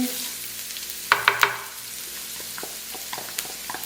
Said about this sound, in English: a tablespoon of oil. We're gonna add the garlic. Get everything in. The onion.